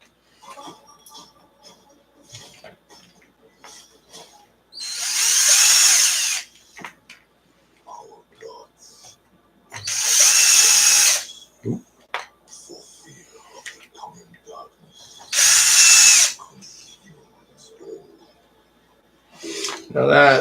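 Power drill countersinking bolt holes on an ARRMA Kraton RC car, three loud whining bursts of a couple of seconds each at regular intervals, close, with quiet clicks and handling noises between.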